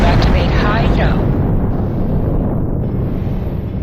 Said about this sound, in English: High-yield torpedo will increase the power of your next torpedo attack